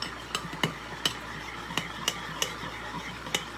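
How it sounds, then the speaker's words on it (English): A spoon mixes pizza sauce ingredients in a bowl, making quiet, irregular clinks and scrapes, roughly eight light taps over a soft background hush. "I'm just going to mix it all together."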